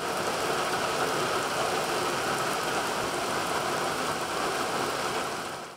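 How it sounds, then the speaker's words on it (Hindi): Torrential monsoon rain pours down across Lahore, where flooding pushed water into homes. It makes a loud, continuous, dense hiss with no pauses and no voices. "शहर के मुख्तलिफ इलाकों में मूसलाधार बारिश।"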